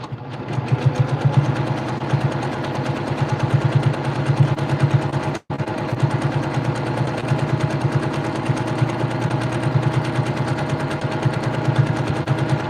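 A Brother PQ1500SL domestic sewing machine runs free-motion quilting, its needle chattering in a fast, steady mechanical rhythm close by, briefly stopping once before running on without voices.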